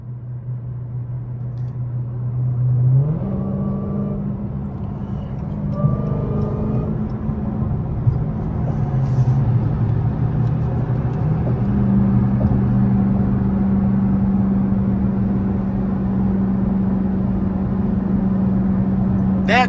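A 900-horsepower Hellcat engine drives and climbs in pitch, rumbling steadily for the whole stretch and rising sharply in revs near the start, with no talk over it.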